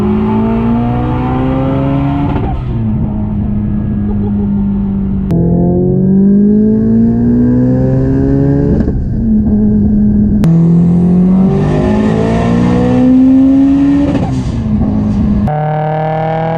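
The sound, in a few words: 850HP Subaru STI revving and accelerating hard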